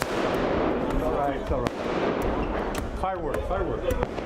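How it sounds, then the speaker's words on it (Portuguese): During street clashes between police and Palestinians in Jerusalem, an explosion is followed by a run of sharp gunshot cracks, loud and close, under a continuous background of crowd noise and voices. "Os policiais correm até uma esquina onde acontece uma explosão."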